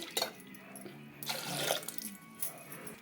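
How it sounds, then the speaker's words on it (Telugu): Water pours from a tap into a pot for boiling dal (lentils), a steady splashing gush that swells in the middle and tapers off, close and clear with no voices. "ఇక్కడ వాటర్ అయితే వేసుకుంటున్నామండి పప్పు ఉడకబెట్టడానికి"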